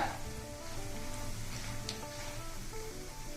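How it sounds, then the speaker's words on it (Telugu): Crushed garlic frying in hot oil on a low flame makes a soft, steady sizzle with faint crackles, close and uninterrupted by speech. "కచ్చా పచ్చికి దంచిన వెల్లుల్లి ఆ పచ్చి వాసన పోయే వరకు వేయించుకోవాలన్నమాట"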